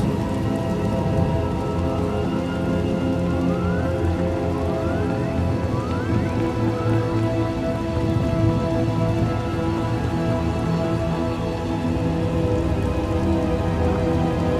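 Heavy rain in the video game Star Wars: The Old Republic pours steadily on surfaces, a dense continuous hiss with a low rumbling undertone, unbroken throughout.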